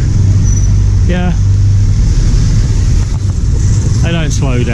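Busy street traffic in Davao, Philippines, with cars and taxis passing: a loud, constant roar of engines and tire noise close by, with brief voices of people talking breaking through now and then.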